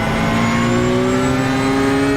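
A Porsche Cup car engine in the iRacing game revs under steady throttle, a loud sustained tone slowly rising in pitch across the brief stretch.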